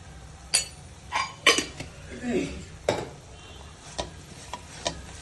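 Chili powder being stirred into egg curry in a pan, a spoon scraping and clinking against the metal in irregular strokes, with soft background noise and a brief voice murmur.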